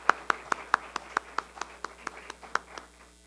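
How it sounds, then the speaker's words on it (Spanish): Clapping at an international seminar on transnational networks and migration: a crisp, evenly spaced run of about fourteen claps that gradually fades, sounding like only a few hands rather than a full crowd. "porque vale otro aplauso"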